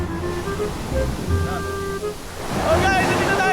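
Ocean waves at a beach, a steady surf wash under brief nearby voices, building to a louder breaking rush toward the end.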